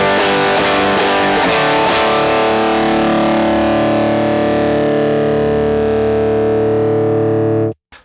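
Electric guitar driven through a Bluesbreaker-style British blues overdrive pedal, one big chord ringing out with thick sustain for several seconds before it is cut off abruptly, loud and alone.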